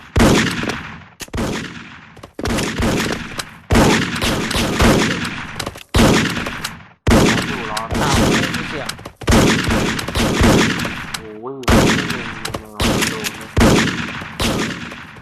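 Rapid bursts of automatic gunfire crackle in repeated volleys, separated by short gaps, loud and close throughout.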